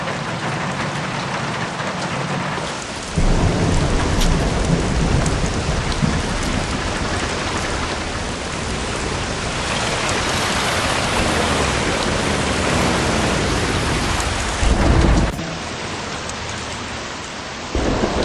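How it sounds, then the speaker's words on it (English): Heavy rain pours continuously in a video game while deep thunder rumbles roll in twice, loud and close, with no one speaking. "Raindrops keep falling on my head."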